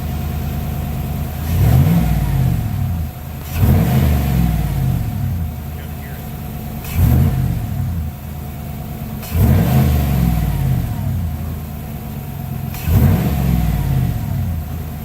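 A Chevrolet Silverado's 5.3 V8 fitted with a cold air intake idles steadily, then revs in five sharp, evenly spaced blips, each rising quickly and settling back to idle, loud and close with no talking.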